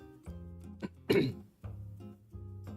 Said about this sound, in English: It's mostly just me like clearing my throat